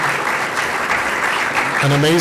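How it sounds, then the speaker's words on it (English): An audience gives a short, steady round of applause for a panel at a tech week aerospace event, clapping filling the room before a voice begins speaking at the end. "I'd like to give a round of applause to this panel."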